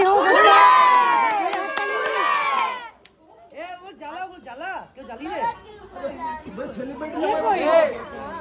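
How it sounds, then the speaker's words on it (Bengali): Crowd cheering loudly, a burst of many voices shouting and whooping together, followed by scattered shouts and excited chatter that build again toward the end. "জোরে হাততালি হোক।"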